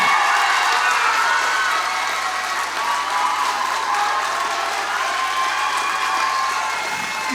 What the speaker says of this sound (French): je vais demander à vos supporters de tous vous applaudir très très fort